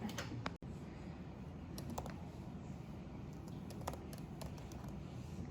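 Rapid clicking of keys on a computer keyboard, steady typing at close range with no talking.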